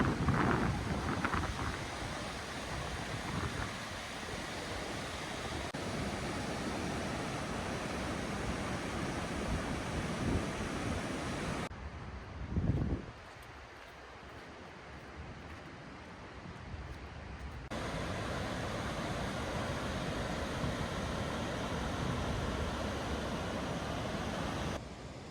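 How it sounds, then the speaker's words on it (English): The middle fork of the Popo Agie river, swollen with spring runoff, roars as a steady broadband rush of whitewater, fairly faint and distant, with a brief dip and a thump partway through. "It's early July and the river is still roaring with spring runoff."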